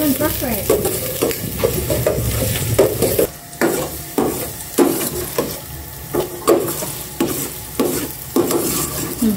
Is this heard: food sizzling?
yes